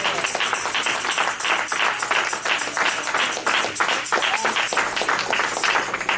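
A church congregation claps at a night service, a dense, fairly loud stream of many hands beating roughly in rhythm without pause.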